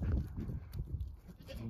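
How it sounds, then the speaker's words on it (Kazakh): A young kid of a horned goat bleats close by in a short, low call, with faint farmyard background noise. "Мынау мүйізді ешкінің лағы мынау."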